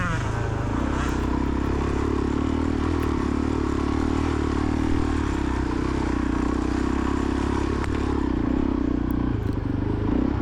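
A Suzuki DRZ400E dirt bike runs through a hare scramble race, its engine a loud steady drone close by with rattling clatter and brief surges.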